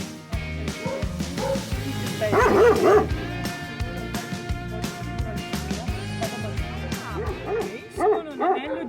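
Several wolf-dog crossbreeds on a farm bark repeatedly and loudly close by, with overlapping yips and whimpers in an excited, irregular chorus that runs almost without pause.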